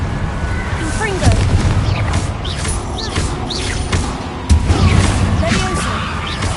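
A Confringo blasting spell goes off in Hogwarts Legacy, with booming blasts and bursts over a dense, loud game soundscape, while a voice speaks over the action.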